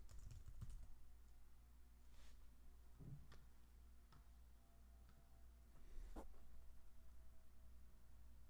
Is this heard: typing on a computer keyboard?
yes